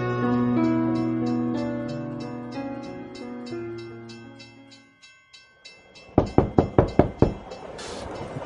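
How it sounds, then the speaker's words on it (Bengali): In an audio drama sound effect, an approaching train sounds a long, sustained horn chord that fades out, then a series of sharp, rhythmic wheel clacks and knocks grows loud and close. "কোথা থেকে যেন একটা ট্রেন আসছে"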